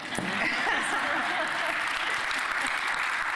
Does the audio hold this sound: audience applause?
yes